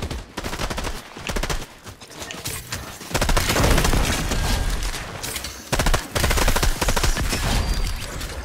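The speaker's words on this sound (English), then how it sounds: "Our shotgun going off." Shotgun blasts and other weapon fire in the video game Fortnite, a rapid, dense series of loud bursts and booms stacking on each other, with short gaps between volleys.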